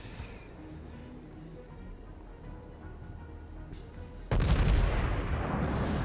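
Battleship main guns fire in a World of Warships naval battle: after several seconds of low rumbling ambience, a single loud booming salvo erupts and rolls on.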